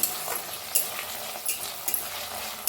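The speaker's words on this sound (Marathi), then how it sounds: "हलवून त्याला बी छान असं भाजून घेऊया" Masala with chopped tomato roasting in a hot pan for a mixed vegetable bhaji, a soft continuous sizzle broken by several sharp scrapes of a spoon stirring against the pan, close and alone with no voices.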